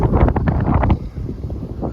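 Wind buffets the microphone in the Sahara Desert in Morocco with a steady low rumble, louder in the first second and then easing to a constant gusty roar.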